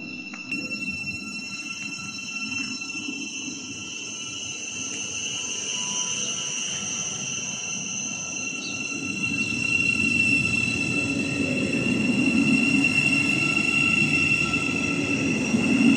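A Class 700 electric multiple unit passes on the East Coast Main Line at Biggleswade, heard as a steady rolling rumble with high whining tones that gradually swells louder toward the end. No one speaks.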